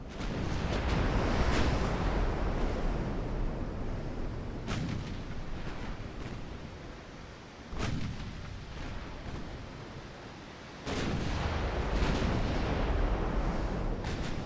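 Huge 19.1-inch Mark 1 naval guns fire in Ultimate Admiral: Dreadnoughts, loud deep booming salvos at intervals over a constant rumbling sea-and-battle backdrop, without voices.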